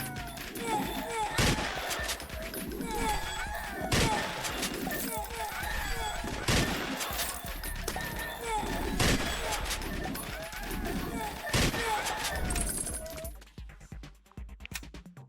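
Rapid overlapping gunfire from many bullets in the video game Slime 3K, a dense continuous stream of shots with clinking pickups, loud and steady, fading out near the end, under a talking voice.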